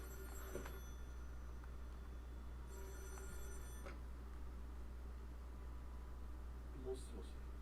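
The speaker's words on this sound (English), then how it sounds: "The phone got really loud all of a sudden." A telephone rings in a horror video game, two long electronic ringing bursts over a steady low hum, then a brief clunk near the end.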